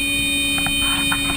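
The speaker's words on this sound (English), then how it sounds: "Suddenly, the alarm sounds." A steady electronic aircraft alarm tone drones loudly and continuously inside a plane, with faint murmuring underneath.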